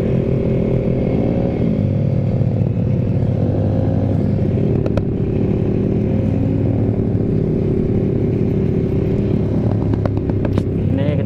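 Yamaha Mio 250cc motorcycle engine revving loudly on a night ride, a steady, close, droning roar with shifting pitch held throughout.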